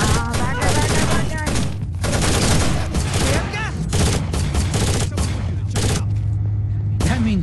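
Dense, loud gunfire in the Rainbow Six Vegas 2 train station level: rapid automatic bursts and overlapping shots fill the whole stretch, with shouted voices mixed in.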